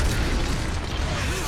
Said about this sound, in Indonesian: Jimmy yang kesal membuat ledakan,